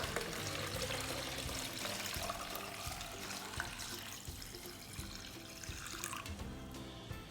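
Tap water pouring into a gallon container, a steady, full rushing splash that holds throughout without voices.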